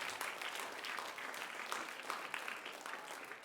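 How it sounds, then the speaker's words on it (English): Steady applause from an audience at a middle school spelling bee, a dense, even wash of clapping at moderate distance, heard alone without voices over it. "let's give Max a round of applause"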